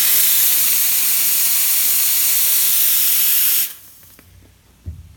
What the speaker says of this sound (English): So the steam power on this is phenomenal as well.